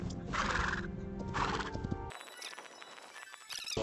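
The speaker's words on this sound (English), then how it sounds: "Oh, I need to check if the horses are not being attacked." Horses in the video game Hytale, two loud whinnies in quick succession followed by hoof clops and thumps, with no talk.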